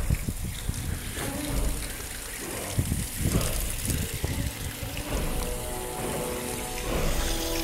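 Water trickles and splashes steadily off a soaked table nearby, a continuous wet pattering with occasional louder drips.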